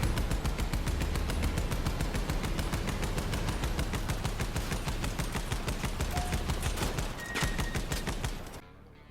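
A machine gun in the video game Crossout fires a long, rapid, continuous burst of loud evenly spaced shots that stops abruptly at the end.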